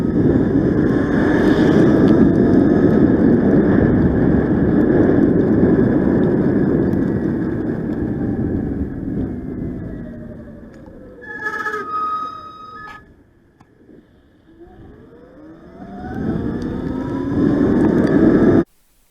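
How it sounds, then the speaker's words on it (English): Stock front brakes on a Sur Ron electric dirt bike, with some help from Shimano rear brakes, squeal in snow amid a loud rushing drone that fades, leaving high ringing tones before the rush builds again. "The squeal you hear is mostly the front brake, the stock Sur Ron brakes"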